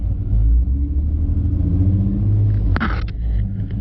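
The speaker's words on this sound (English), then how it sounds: "you rev up the RPMs with your right foot on the gas pedal" An automatic car's engine is held on the brake and revved for a burnout, a heavy low rumble droning steadily up close with a brief sharp clatter near the end.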